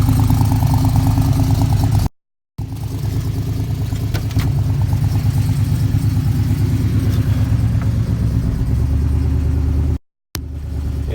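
A 1967 Pontiac LeMans restomod with Sniper fuel injection idles high while still cold, a steady, loud, close engine rumble broken by two brief dropouts.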